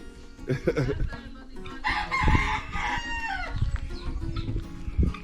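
Chickens cluck and a rooster crows on a free-range off-grid farm in the Dominican Republic, where turkeys and ducks are also kept; the crow rises loudly in the middle among scattered nearby clucks and rustling.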